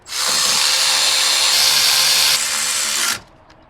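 An impact wrench runs alternator bolts in on a 2001-2011 Ford Ranger with a 4.0 V6, one loud close continuous whir of about three seconds that stops abruptly.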